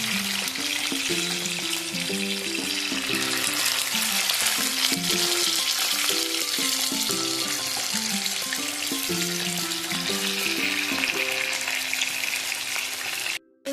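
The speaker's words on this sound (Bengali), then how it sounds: "পরের ব্যাচের মাছগুলো ভেজে নিচ্ছি" Fish pieces for chilli fish fry in oil with a continuous, bright crackling sizzle that lasts the whole stretch, under steady background music, and ends with a sudden drop.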